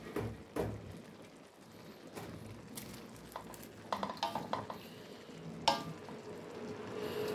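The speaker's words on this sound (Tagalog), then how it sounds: "Ang niluluto ko na lang talaga dito ay yung broccoli." Broccoli and half-cooked leftover noodles sizzle in a pan, with scattered utensil scrapes and clinks of stirring over a steady low frying hiss.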